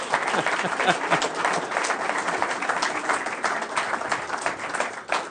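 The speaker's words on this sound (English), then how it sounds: "Oui, on peut applaudir" Audience applause at a press event with the Ontario and Québec premiers, a continuous dense round of clapping filling the whole stretch, with some voices mixed in early on.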